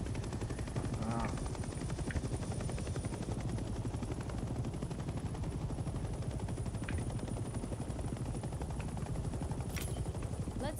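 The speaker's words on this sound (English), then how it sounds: "Let's land the helicopter on a helipad and turn the engine off." Helicopter in the war game Hell Let Loose: Vietnam, a continuous rhythmic rotor chop and engine drone filling the whole stretch, with occasional sharp gunshot-like cracks on top.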